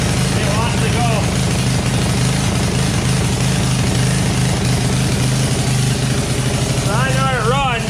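Troy-Bilt Super Bronco tiller engine, freshly repaired, runs loud and steady up close with a rough, throbbing idle that holds throughout; a voice speaks briefly near the end.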